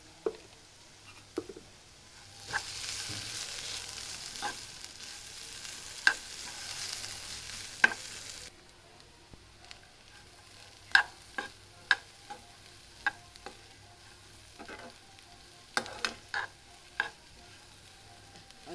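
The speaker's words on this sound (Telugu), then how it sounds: "ఆలు అంత ఇలా ఫ్రై అయ్యాక కొంచెం కారం వేస్తున్నాను" Sliced potatoes fry in a pan with chili powder for an aloo fry, with soft sizzling and sporadic scraping stirs and spoon clicks at close range, quieter after an early stretch of hiss.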